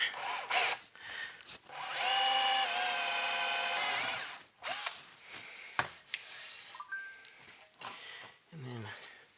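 A power drill whines steadily as it bores holes through wood for a tube amp build, followed by clattering, scraping handling noises and shorter bursts.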